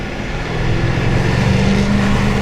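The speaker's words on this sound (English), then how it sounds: "press the accelerator a little bit harder, because it makes all the road noise" A 2022 Jaguar F-Type R P575 under hard acceleration, its engine a steady, loud droning roar heard from inside the car, rising gently in intensity with road noise beneath it.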